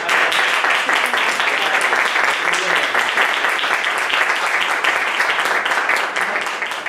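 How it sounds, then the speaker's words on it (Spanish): An audience at a university debate in Algeciras applauds steadily for several seconds, dense clapping from many hands that tapers slightly at the end. "Así que un aplauso por el trabajo."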